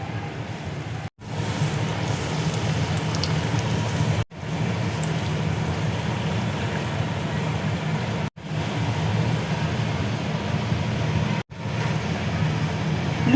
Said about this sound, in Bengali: এবার আমি লুচিগুলো ভেজে নেব।